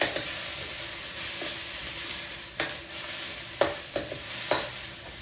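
Vegetables, including broccoli, sizzle in a hot pan as stir-fry sauce is stirred through them. A constant frying hiss is broken by several sharp scraping strokes of the spatula. It is close and moderately loud, with no talking.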